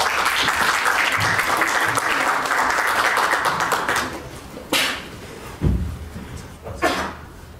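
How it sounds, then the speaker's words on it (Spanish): Audience at a Spanish-language lecture on translating Shakespeare gives a dense burst of applause that thins out after about four seconds into a few scattered claps and handling knocks. "Lo recibimos con un aplauso,"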